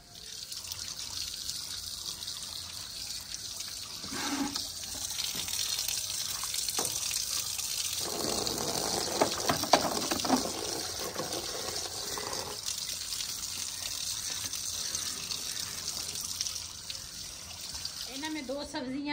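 Water poured into a pot while cooking okra and meat in a Pathani village kitchen, a steady splashing trickle running through most of the clip with someone talking over it.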